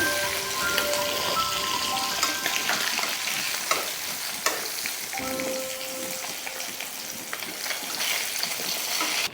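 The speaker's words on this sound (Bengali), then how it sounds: "একই তেলে আমি ফোড়নটা দিয়ে দিচ্ছি দিয়ে দিচ্ছি শুকনো লঙ্কা একটা তেজপাতা" Dried red chilli, bay leaf and cumin dropped into hot oil left from frying fish for a Bengali curry, crackling and sizzling loudly up close, with occasional stirring clatter and no voices.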